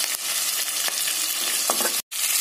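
Sliced onions and curry leaves sizzle steadily in a hot oiled pan for radish sambar, a continuous close frying hiss with a few stirring scrapes and one brief cut in the sound near the end.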